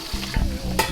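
Shrimp sizzle in oil in a hot pan while being stirred, a short burst of close frying hiss with a scrape of the utensil, no voices.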